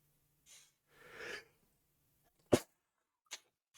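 A single explosive human sneeze, a sharp loud burst preceded by a couple of quick breathy inhalations and followed by a brief faint sniff, in a quiet room.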